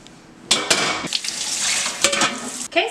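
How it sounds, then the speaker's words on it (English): Tap water runs into a sink while a new pan is washed, with splashing bursts and clinks of the pan against the basin close by. "I'm gonna go ahead and wash the pan since I just got it today and it is filthy and"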